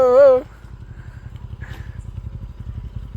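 After a brief voice, a motorcycle engine chugs with a low, rapid, even thump, close by and continuing steadily as it arrives.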